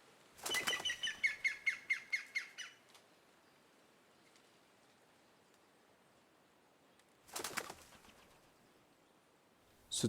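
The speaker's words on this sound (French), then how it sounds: "Ici, un pic vert de sortie." A green woodpecker leaves its nest hole in the Belgian woods with a quick burst of wing flaps and calls, then silence before another short flurry of wingbeats near the end.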